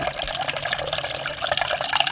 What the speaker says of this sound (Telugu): ఇలా వాటర్ మరీ ఎక్కువ పోసుకోకూడదు